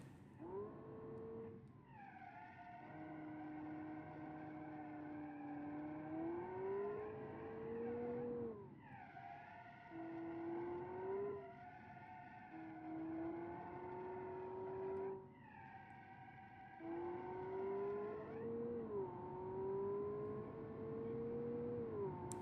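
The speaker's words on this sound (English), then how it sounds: "Oh, this is a flat plane V8." Flat-plane V8 engine powering a makeshift school bus in a video game, revving hard in repeated rising pulls with gear shifts, a loud, close, high-pitched wail filling the whole stretch without talk.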